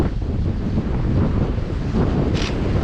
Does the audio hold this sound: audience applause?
no